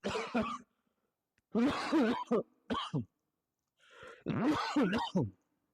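Several harsh, throaty coughs from a person with a cold, with throat clearing in short bursts separated by pauses, close to the microphone.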